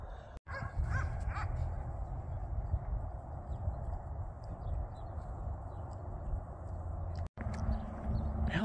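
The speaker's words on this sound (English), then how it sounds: "Dogs over here are just having a ball." Dogs playing and chasing a ball in a city park in Albuquerque, New Mexico bark and yip in the distance amid steady outdoor background noise, a few scattered barks rather than continuous barking.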